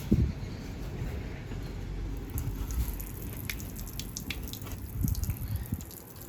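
Water runs and drips steadily from an RV's opened low point drains onto the ground nearby, a continuous splattering trickle with a few louder splashes.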